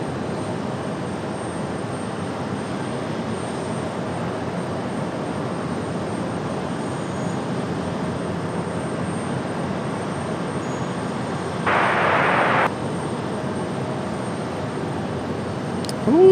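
Airliner taking off from runway 23 right at Raleigh-Durham International, a steady distant engine roar holding evenly across the whole stretch, with a brief burst of louder noise near the end and no talk.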